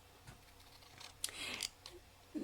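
Scissors snip through paper card for a 3D snow globe greeting card, a few quiet, brief cuts with a louder crisp stretch in the middle, close and faint against a low background.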